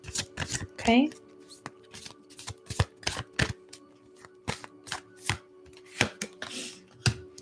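A deck of Psychic Tarot cards is shuffled in quick, crisp riffles and taps, close and fairly quiet, with a brief spoken word near the start.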